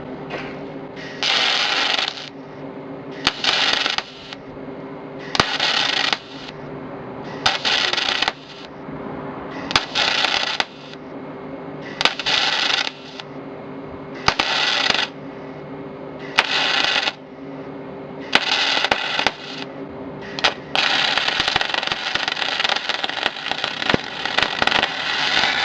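MIG welding/brazing brass (silicone bronze) wire onto a stainless steel plate: a steady loud crackling arc broken into repeated short bursts with brief pauses, then one longer continuous run near the end, with no talk.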